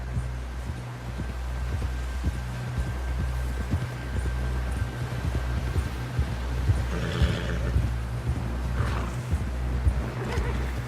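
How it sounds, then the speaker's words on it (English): Horse whinnying and hooves clip-clopping in the Red Dead Redemption 2 video game, set against a steady low hum, with brief neighs rising near the end of the ride. "Someone help John down off this horse."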